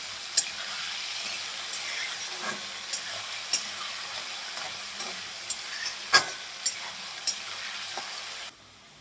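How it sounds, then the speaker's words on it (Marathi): Potato pieces fry in hot oil until reddish brown for sabudana khichdi, giving a steady soft sizzle broken by sharp spatula clicks and scrapes every second or so, with no talking. "तांबूस कलरवरती आपल्याला हा बटाटा फ्राय करायचा आहे."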